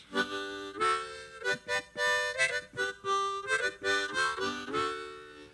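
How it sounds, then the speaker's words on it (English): A harmonica played in the old cowboy style plays short, bouncy chords in a steady chugging rhythm, each note bursting out separately with brief gaps between them. "One is the old cowboy method,"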